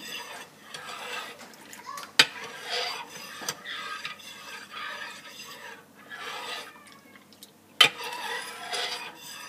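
A spoon stirring yogurt into milk in a crock pot, with scraping swishes and two sharp clinks against the ceramic, close and fairly quiet, no talking.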